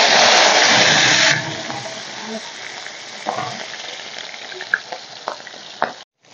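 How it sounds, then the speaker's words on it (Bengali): Katla fish pieces frying in hot mustard oil in a wok, a loud, dense sizzle that drops to a steady, quieter crackle with scattered pops and stirring clicks. "তেল খুব ভালো করে গরম করে নিয়েছি, মাছগুলো এখন ভেজে নেব।"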